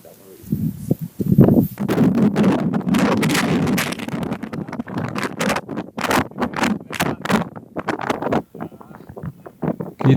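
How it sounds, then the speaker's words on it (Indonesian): Strong gusting wind buffets the microphone near the summit of Mount Agung, a roaring broadband rush that swells and drops in bursts, with a voice speaking over it at times. "anginnya lumayan kencang tapi tidak terlalu intens."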